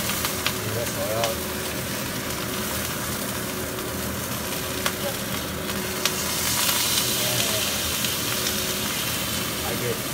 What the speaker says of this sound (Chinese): 还可以再反过来再煎